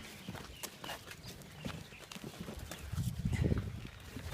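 Friesian cows walk on a concrete feed pad, hooves clopping in an irregular, close stream of steps that grows louder and busier toward the end.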